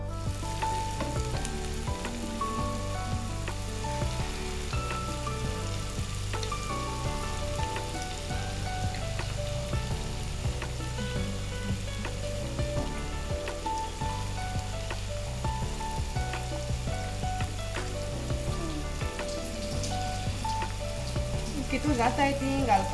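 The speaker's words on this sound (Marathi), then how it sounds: "आनी आतां तें हांव फ्राय करता" Marinated chicken lollipops fry in hot oil with a dense, continuous sizzle and crackle that runs steadily throughout, with a faint musical backing underneath.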